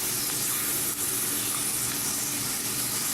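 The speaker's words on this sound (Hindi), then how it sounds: "डायरेक्ट इस तरह पहले तेल में डालना है आपको। इसको हम फ्राई करेंगे" Chicken pieces for karahi fry in hot oil, a loud continuous hiss and crackle that holds steady throughout with no talk over it.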